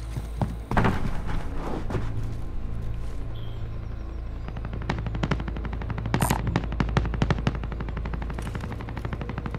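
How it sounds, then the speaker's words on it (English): Gunfire in the game Call of Duty: Modern Warfare, with rapid machine-gun bursts and single shots echoing at varying distances, some dense volleys mid-way, over a low steady rumble. "He's shooting on that roof over there."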